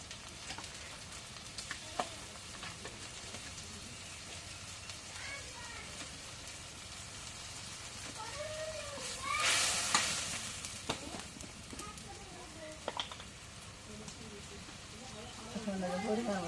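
Garlic and cumin paste sizzles and fries in a pan while a utensil stirs and scrapes intermittently, with a voice talking over the low, steady frying hiss.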